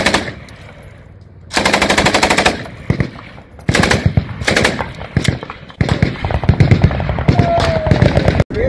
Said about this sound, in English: Vamos a probar la ametralladora Browning calibre 50, un favorito, munición antiblindaje incendiaria.